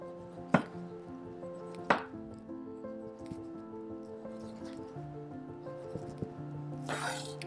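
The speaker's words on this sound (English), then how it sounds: "We'll just flip that around, cut off our base, get any leftover pith that we missed." A knife cuts the base off a citrus fruit on a board during brunch prep, with two sharp close chops early on and a brief juicy slicing rustle near the end, quiet in between.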